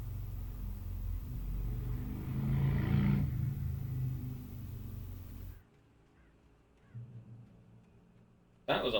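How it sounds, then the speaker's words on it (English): A motorbike engine roars past in the Alan Wake video game, a low rumble that swells to a peak and fades, then cuts off abruptly into near silence. "That was a loud-ass engine from that bike."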